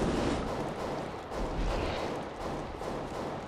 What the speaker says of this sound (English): I'm just sitting here shooting him.